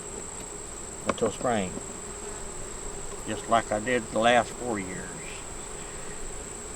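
Honey bees buzz at a beehive in a steady, continuous drone, while someone talks over it in short bursts.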